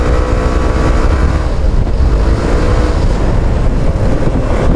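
FKM Slick 150 motorcycle engine revving hard at high RPM while riding, a loud continuous screaming roar mixed with heavy wind rush on the microphone, sustained without pause.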